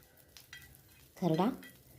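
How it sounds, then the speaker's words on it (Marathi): Green chillies and garlic roast in a spoonful of oil on a hot tava for chicken kharada: a soft sizzle with scattered scraping stirs, then a brief, louder tonal burst midway before it settles back to a quiet hiss. "त्यामध्ये मी मिरच्या आणि लसूण टाकून ते थोडंसं गरम झाल्यावर त्यावर एक चमचाभर तेल टाकले म्हणजे ते छान असं भाजेल"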